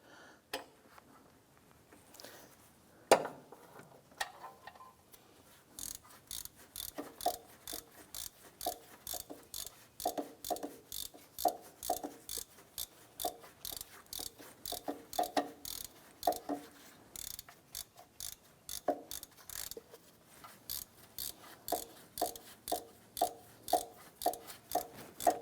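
A ratchet snugs down the bolts of a crankshaft position sensor on a 2001–2005 Honda Civic, sounding as rapid bursts of sharp close clicks with brief pauses between strokes.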